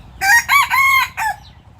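A wild junglefowl rooster raised on a farm crows once up close, a loud broken call of several rising and falling bursts that ends with a brief trailing note.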